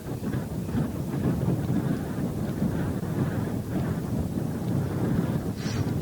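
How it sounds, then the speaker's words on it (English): Strong wind roars across the microphone on an exposed mountain climb, a steady low rushing buffet with gusty swells that lasts the whole stretch, loud and with no voices. "the wind is trying to push me off"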